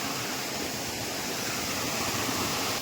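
Water falls at Boddugudem waterfall in a steady, broad rushing roar, even and continuous from start to finish without voices.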